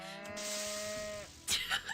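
A cow in a video game gives one long, steady moo lasting just over a second, then a few brief noisy bursts follow.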